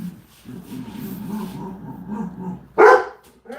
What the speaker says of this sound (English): you guys can go outside and bark if you want